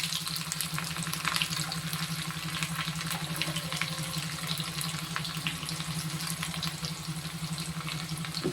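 Steady oil sizzle and crackle of onions frying in a pan after fenugreek seeds, continuous and close, with occasional soft pops and no voices.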